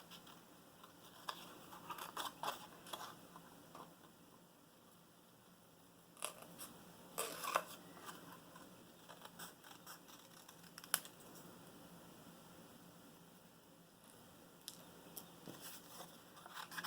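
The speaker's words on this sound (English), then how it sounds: "So let me go ahead and cut these out quickly." Scissors cut out small paper pieces stamped with black ink in a quiet room. Faint, scattered snips and rustles come at an irregular pace, with no talking.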